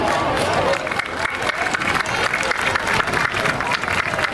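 A crowd applauds at a children's World Cup celebration event, steady broadband clapping for several seconds with a lively, dense texture and voices mixed in.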